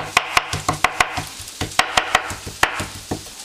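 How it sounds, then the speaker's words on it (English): A knife chops and minces excess pork loin meat on a board in quick, uneven strokes, each one a sharp, close knock over a faint background hiss, with no voices. "Now we're going to chop up this excess meat, mince it as fine as possible, really small, so it's spreadable"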